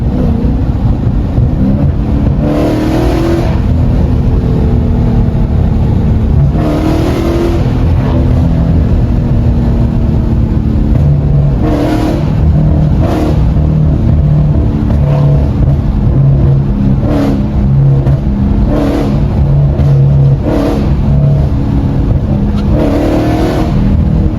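A Dodge Challenger 392 V8 revs and accelerates hard in cold weather, a loud continuous engine roar with repeated rising pulls and shifts, close to the microphone and without talk.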